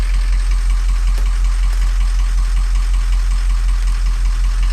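A car engine, from a 2003 model per the notes, runs warm at a steady, close idle during a relative compression test, with an even, rumbling throb and a faint, uneven knock, alone without talk.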